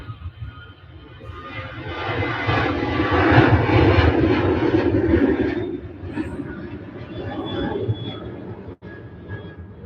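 Sun Express airliner at Manchester Airport, bound for Antalya, producing a loud, broad jet engine roar that swells over several seconds, then eases to a steadier rumble.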